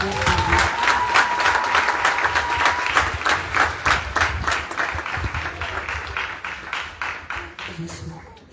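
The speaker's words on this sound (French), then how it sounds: "On les applaudit" Congregation at Sunday Mass applauding two new members, a room full of hands clapping in a brisk, fairly even rhythm that thins and fades toward the end, with some voices mixed in.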